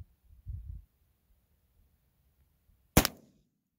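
A single sharp gunshot from a handloaded deer-hunting round, 158 grain Hornady XTP bullets over 7.7 grains of HP38 powder, cracks loudly once near the end after a quiet stretch with a faint low rumble.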